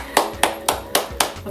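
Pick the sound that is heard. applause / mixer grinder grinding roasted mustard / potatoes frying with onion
applause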